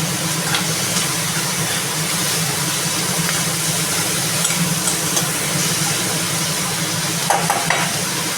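Onions and curry leaves sautéing in a pan for a prawn gravy, a steady dense sizzle with occasional scraping stirs, close and continuous throughout.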